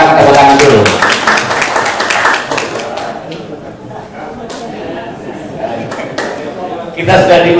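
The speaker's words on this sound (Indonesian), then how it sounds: "Silakan tepuk tangan dulu." Clapping from an audience for the moderator at a foundation Q&A event, a dense burst at first that thins out, mixed with people talking nearby.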